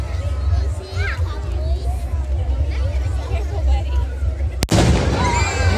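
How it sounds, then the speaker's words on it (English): A single sharp cannon shot or firework bang cracks out at a street parade, sudden and loud, amid steady crowd hubbub with people talking nearby before and after it. "Is that a cannon shot?"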